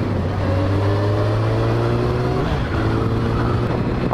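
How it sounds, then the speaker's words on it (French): A motorcycle fitted with a 4-into-1 exhaust revs with a steady, droning engine note, close and loud, briefly dipping in pitch before settling back into its even tone. "ce qui est sympa avec sa moto, c'est que elle chante un peu plus que la mienne"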